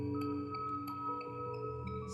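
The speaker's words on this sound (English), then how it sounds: "So you can hear those little blips." Small granular blips from a Mutable Instruments Beads synth module, short pitched grains scattered over a sustained tonal drone, close and clean with no voices.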